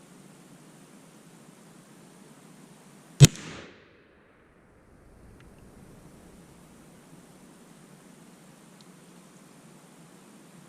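A single sharp rifle shot from a Thompson Center Seneca .36 caliber black powder muzzleloader loaded with Olde Eynsford powder, a loud crack with a short decaying tail over steady outdoor background noise.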